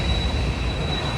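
A heavy rumble of a metro train rolling past overhead at a metro station, heard from below, steady and loud throughout with a constant high whine above it.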